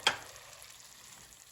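Artichoke tagine frying in a pan, hissing after water is added: a sharp splash-sizzle at the start that settles into a steady, fairly quiet crackle and hiss.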